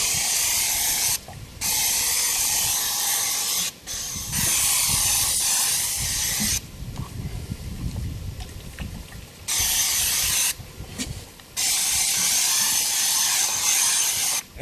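Sunscreen spray hisses from an aerosol can in bursts outdoors on a lake fishing trip, several long sprays separated by short pauses and quieter rustling.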